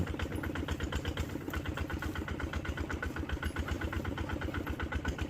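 Kubota-engined rural farm vehicle, its engine running steadily with a fast, even thumping beat on an old mountain road; heard close and continuous, no talk.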